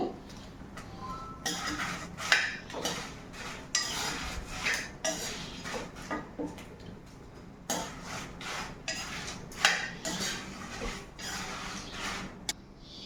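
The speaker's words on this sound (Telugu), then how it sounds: "సిమ్లో పెట్టుకొని వేయించుకోవాలండి, లేకపోతే మిరపకాయలు నల్లగా అయిపోతాయండి" Dried red chillies frying in oil on a low flame while making munagaku karam podi, with steady soft sizzling under repeated metallic clinks and scrapes of a utensil stirring in the pan, close and moderately loud, without talk.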